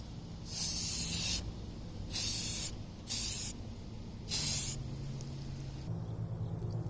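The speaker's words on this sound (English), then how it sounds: "basically just kind of spray it on" Aerosol spray paint from a rattle can hisses in four separate bursts of varying length, close by and moderately quiet, with low background hum between sprays.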